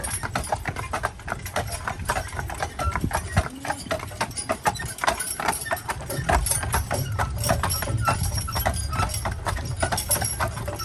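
Hooves clip-clop in a steady walking rhythm as several taxi horses move at once past a barn, over a low background rumble.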